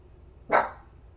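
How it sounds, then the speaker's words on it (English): A single sharp dog bark, loud and close, standing alone against a quiet background during a home acrylic painting session. "I have no idea what she's barking at now."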